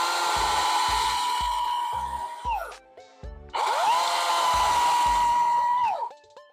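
Ego 60-volt battery chainsaw with a 16-inch bar whirring up to a steady high whine, running about two and a half seconds, winding down, then revving up again for another long run before trailing off, loud and close with no talk.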